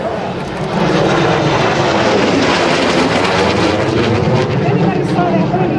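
A jet fighter standing in for a MiG, an F-5, roars loudly and steadily as it flies past at an air show open house, with a broad engine rush filling the air throughout and swelling after the first half second.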